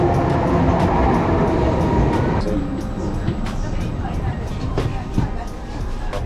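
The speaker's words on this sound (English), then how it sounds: "Italian train. Here we go. Here we go to Florence." An Italian train to Florence rumbles heavily, filling the space with a steady mechanical roar and faint rhythmic clicks, heard from inside or beside the carriage.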